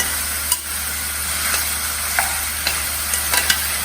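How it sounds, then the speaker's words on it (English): Potatoes with spices being stirred in a pan for a Gujarati dish, a steady hiss of frying with scattered scraping and clinking of the spoon against the pan. "Go on stirring like this"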